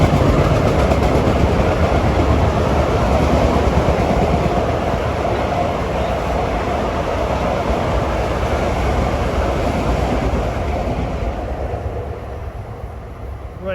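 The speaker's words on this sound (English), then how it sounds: "here comes 2062 from New York to Ronkonkoma" Long Island Rail Road train 2062 bound from New York to Ronkonkoma roars past at Jamaica/Hollis. The rumble is loud and close, with wheel clatter, and it holds steady before easing off toward the end.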